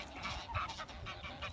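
A duck or goose-like waterfowl calls at Eccup Reservoir in Leeds, a series of loud, nasal honking calls in quick irregular bursts, fairly close over outdoor background noise.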